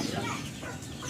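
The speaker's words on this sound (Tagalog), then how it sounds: "Ang ingay ng mga, dito, manok" Chickens cluck steadily close by at a rural home in the province, a busy, continuous flock chatter with no pauses.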